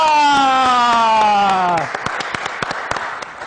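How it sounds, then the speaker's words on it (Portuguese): An audience applauds a journalist and teacher returning to a Brazilian afternoon talk show, with sharp claps cutting through a sustained sung or held musical tone that breaks off midway, leaving scattered loud claps alone. "Vamos aplaudir com energia."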